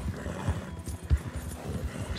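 Several horses, including an Arabian and a mustang, gallop over firm ground in a long-distance race, their hooves making quick, uneven thudding beats close by, with faint background noise.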